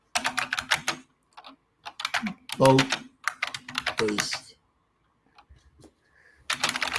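Computer keyboard typing comes in rapid clattering bursts of keystrokes close to the microphone, alternating with stretches of someone talking and a few quiet pauses.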